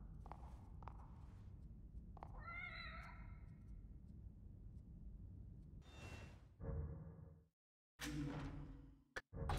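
A cat meows in The Evil Within during the Assignment DLC, a few short wavering cries among footsteps and game noise, then abrupt cuts and bursts of sound.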